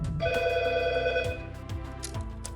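A telephone rings with a bright electronic tone, a sustained ring that cuts off after about a second, followed by a few short clicks and chirps, fairly quiet with no talking.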